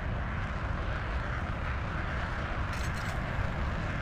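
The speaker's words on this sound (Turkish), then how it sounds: "Şimdi bu uçağımız da havada olması lazım." A warplane engine roars in the naval combat video game Modern Warships, a constant loud jet-like drone holding steady throughout with no talking over it.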